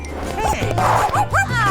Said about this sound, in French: Oh mon joli chien.